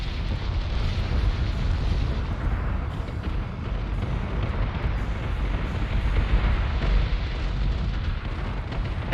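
Ship batteries firing on a target in Battlestar Galactica Deadlock: a thick, unbroken rumble of booming cannon fire and explosions, loud and sustained throughout, with no voices.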